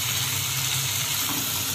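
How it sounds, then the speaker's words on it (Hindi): Water is poured into fried masala to make gravy for lauki kofta. It makes a steady, full gush that runs unbroken and fairly loud through the whole short stretch, with no talking. "और इसमें हम पानी डालेंगे।"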